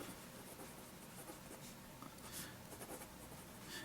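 Fine-nibbed Waterman-Bic 298 student fountain pen scratching across paper, a faint, steady close-up scritch with small pauses between strokes.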